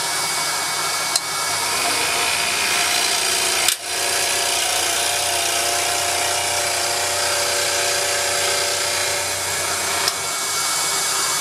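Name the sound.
scroll saw cutting circles in wood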